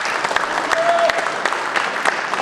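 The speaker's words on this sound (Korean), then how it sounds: "큰 박수 좀 부탁드리겠습니다." Audience applause at a 2024 legislative report meeting in Seogwipo, Jeju, greeting an introduced guest: dense, steady clapping from a sizable crowd, close and fairly loud, with a faint murmur underneath.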